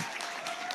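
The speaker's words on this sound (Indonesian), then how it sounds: "Kita beri tepuk tangan lagi yang meriah sekali lagi tentunya." A brief burst of applause from an audience at an Indonesian children's book launch event, a soft, continuous patter of many hands clapping at a moderate distance.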